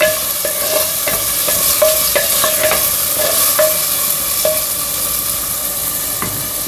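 Tomatoes are stirred into lady's finger curry in a clay pot, a loud steady sizzle with repeated scraping clacks of a spoon against the pot, no talking.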